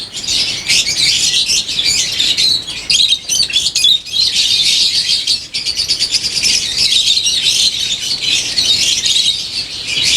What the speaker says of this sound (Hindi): यहाँ पे आप लोग देख सकते हैं ये एल्बिनो रेड आई के बेबीज़ हैं इनके पास